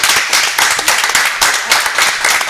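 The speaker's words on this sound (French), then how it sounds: "sous vos applaudissements mesdames et messieurs" A television talk show studio audience claps steadily in loud, sustained applause, with pulsing waves of hand claps and no talking.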